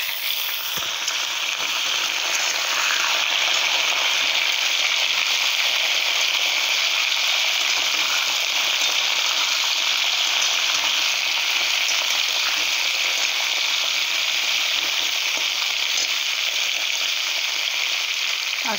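Potato and pointed gourd frying together in a pan, a steady, dense sizzle that stays loud and even throughout with no voices over it.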